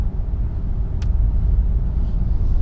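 Steady low road rumble fills the cabin of a Ford E-Transit Custom electric van on the move, a constant close drone with a brief faint click near the middle and no voices.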